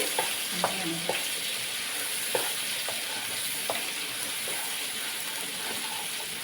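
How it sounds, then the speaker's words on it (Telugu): Onion paste fries steadily in hot oil, a continuous sizzle broken by scattered scrapes and taps of a spoon stirring the pan; no talking. "ఆనియన్ పేస్ట్ బాగా వేగాలండి మనకి వేగితే నూనెలో తేలిపోతుంది"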